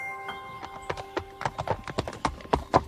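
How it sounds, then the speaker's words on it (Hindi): Cartoon horse hooves clip-clop at a forest's edge in a quick, uneven rhythm that grows denser and louder, with sustained musical tones beneath. "दीपक दौड़ते हुए जाता है और जंगल से अपने घोड़े को पेड़ से खोलता है और उसके ऊपर बैठकर"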